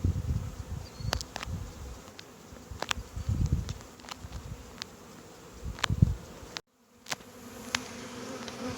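Carniolan honey bee swarm being re-hived into frames, a steady low buzzing hum that swells in a few louder bursts, with faint clicks and a brief dropout near the end.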